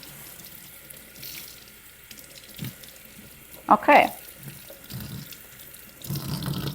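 A kitchen tap runs water into a sink for washing a knitted dishcloth, a soft hiss with a brief louder splash midway, and a voice speaks briefly.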